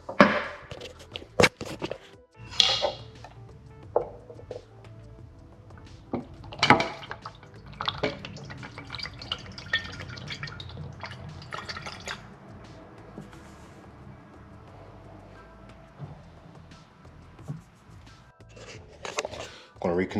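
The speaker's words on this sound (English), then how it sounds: "now I'm gonna pour my fluid into this reservoir." Brake fluid being poured into the reservoir of a BMW X5/X6 during a fluid flush, soft close liquid trickles and drips with clicks and handling noises, with a voice speaking at times.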